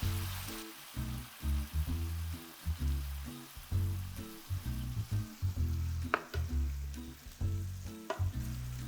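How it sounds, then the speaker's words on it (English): Food sizzles in a hot pan while being stirred, with rhythmic bursts of low scraping and frying that rise and fall repeatedly, quiet and without talk. "Give it a stir."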